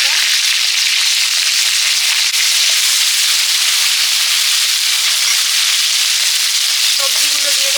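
Spices, chopped onion and green chillies fry in hot oil in a home village kitchen, a loud, dense and continuous sizzle that holds steady throughout, with a faint clink near the end.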